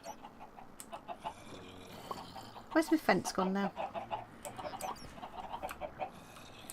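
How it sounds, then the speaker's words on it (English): Chickens clucking in the Minecraft Sky Factory 3 game, several short clucks and squawks bunched in the middle over a background of game sounds, with someone speaking at the same time. "Come back, chickens. They've all escaped."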